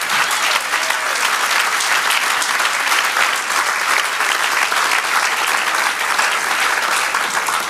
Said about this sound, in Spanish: Amado, si le vas a dar el aplauso, dáselo a Él.